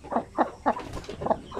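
A newly bought Shamo rooster clucks in a quick series of five or six short, rhythmic calls, close and fairly loud, over a faint background hiss.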